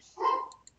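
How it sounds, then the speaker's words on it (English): A pet dog gives a single short bark indoors, fairly faint and alone, with no talking over it. "sorry if you can hear my dog barking"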